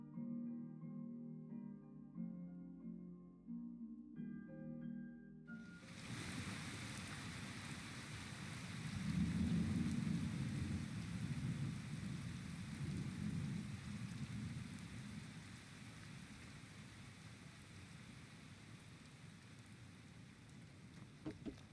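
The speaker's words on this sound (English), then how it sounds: "Look at this rain." In a farming video game, after soft music fades, steady heavy rain pours with a deep rolling rumble of thunder swelling in the middle, then settling back to constant downpour.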